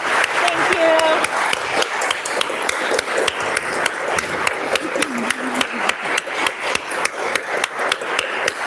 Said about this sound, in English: Let's give them another round of applause, shall we?